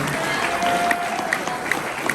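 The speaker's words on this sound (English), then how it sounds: "you guys give yourselves a giant round of applause" Audience at a comic con contest in Lakeland, Florida applauds participants, a steady continuous wash of clapping with a few louder individual claps standing out.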